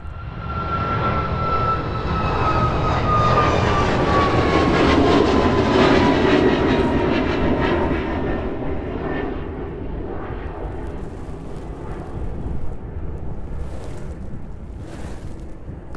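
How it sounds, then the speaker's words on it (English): An airliner climbing away after takeoff from East Midlands Airport, bound for Dublin, its broad engine roar loud and sustained with a falling whine, then gradually easing as it recedes into the distance. "Listening there as it continues its departure from East Midlands"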